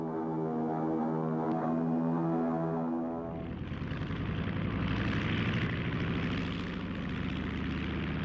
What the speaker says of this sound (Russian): Самолет в воздухе.